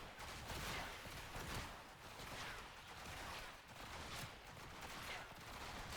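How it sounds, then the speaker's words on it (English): Enemy gunfire in the Warframe video game, a dense, continuous barrage of overlapping shots rattling steadily throughout at moderate loudness, with no clear pauses. "Once they start actually shooting at me."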